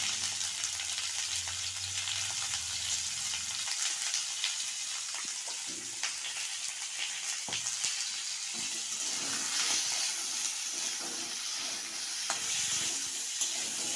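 Chopped vegetables fry in an open pan for a fish curry with salt and turmeric, giving a loud continuous sizzle with occasional stirring scrapes, close and without talk.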